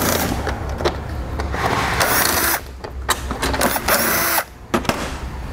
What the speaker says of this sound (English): Now we're going to remove all these Phillips screws going across the front edge here